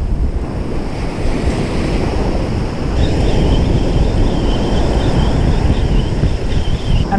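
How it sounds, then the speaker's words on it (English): Ocean waves break on a beach in a steady, loud roar of surf mixed with wind buffeting the microphone, continuous throughout with no voices. "you see the waves are pushing this way"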